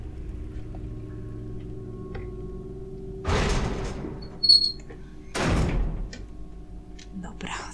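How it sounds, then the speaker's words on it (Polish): A door opens in the video game Resident Evil HD Remaster, heard as two short noisy bursts a couple of seconds apart, with a creak between them, over a quiet game backdrop. "i wchodzimy sobie w drzwi."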